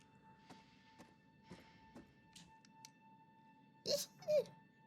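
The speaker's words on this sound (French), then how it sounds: "Il y a des bruits de pas là, non?" Footsteps in the horror video game The Devil In Me, a series of soft, evenly spaced thuds at moderate distance over a quiet dark ambience, followed near the end by two louder, sharper knocks.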